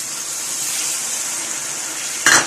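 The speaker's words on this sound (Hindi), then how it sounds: "मसाले में थोड़ा सा पानी और डाल लूंगी" A little water hits a frying spice masala of salt, red chili and turmeric in a pan for aloo mongray sabzi, giving a steady hissing sizzle that flares into a louder burst near the end.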